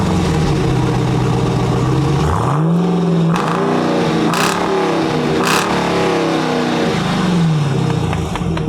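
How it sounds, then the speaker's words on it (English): A supercharged 2020 Jeep Trackhawk idles with a deep burble, then its exhaust barks through several sharp rising revs and falls back, loud and close, with no one talking. "Let me show you what this exhaust sounds like."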